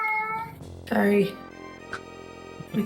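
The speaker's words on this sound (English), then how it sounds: "All of stream can hear your cat." A house cat meows indoors, one long drawn-out meow followed by a shorter one and a brief final cry, fairly close, with a person talking in between.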